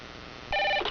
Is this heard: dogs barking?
no